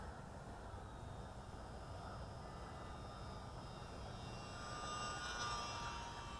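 Small electric E-flite UMX Waco BL radio-controlled biplane flying low just above the ground, its steady motor whine running continuously at moderate distance and swelling slightly louder toward the end.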